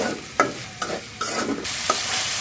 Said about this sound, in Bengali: তো এই তো এখন মটরশুঁটি আর হচ্ছে পেঁয়াজ কাঁচামরিচ সবগুলোকে মাংসের সাথে ভালো করে মিক্স করে নিচ্ছি।